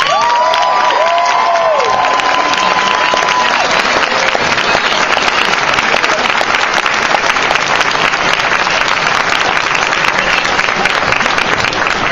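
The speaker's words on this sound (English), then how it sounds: "Ladies and gentlemen, big round of applause for Lee." A comic-con panel audience breaks into loud, sustained applause mixed with cheers and whoops. A brief electronic tone sounds at the start, then the crowd noise continues steadily to the end.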